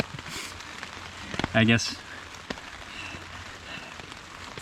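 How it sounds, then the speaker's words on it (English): Rain patters steadily on a tent during a March rainstorm on a backpacking trip in the Allegan State Game Area, a close, even hiss of drops, briefly joined by someone speaking. "So I'm in my tent. It's raining like, not crazy."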